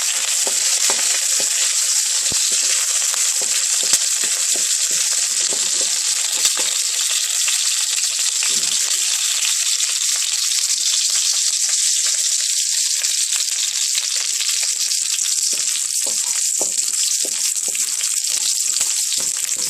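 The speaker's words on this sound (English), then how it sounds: "So give that a nice toasting." Ingredients for hot and sour soup toast in a hot pan, a loud steady sizzle and crackle close up, continuous with no talk.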